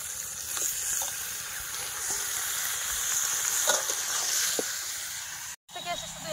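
Meat hits hot oil with well-fried spice masala and sizzles steadily, with stirring scrapes over the frying hiss, close up; a brief cut near the end.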